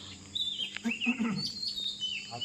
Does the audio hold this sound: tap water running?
no